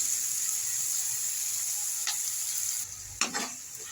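Tomatoes with ginger-garlic paste and turmeric fry in a pan, giving a steady close sizzle with a few sharp stirring clinks near the end; no talking.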